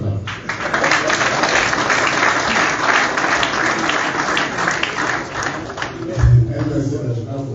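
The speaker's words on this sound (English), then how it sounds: "I deserve the clap." Audience clapping at a political speech, a steady dense wash of applause that fills the whole stretch, loud and continuous, with a brief low thump near the end.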